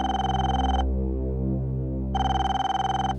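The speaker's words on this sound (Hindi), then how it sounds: "फोन बज रहा है।" A telephone rings twice in bright electronic bursts, a pause between them, over a steady low hum.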